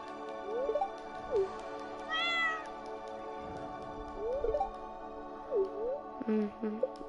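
A cat meows repeatedly in the video game Stardew Valley, short rising and falling calls spaced a second or two apart over a soft musical background, with a brief higher chirp and a quick double meow near the end.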